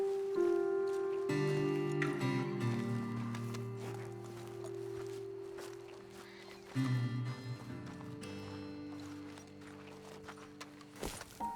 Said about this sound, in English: Best leave the horses back a bit.